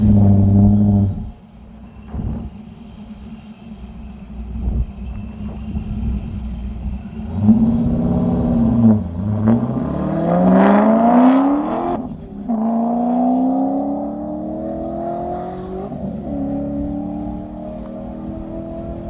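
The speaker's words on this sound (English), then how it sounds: "Car took off without him." Race car at an E.C.T.A. Arkansas Mile event revving loudly and accelerating away down the track, its engine note climbing through gear changes and then fading into the distance, with a steady rumble throughout.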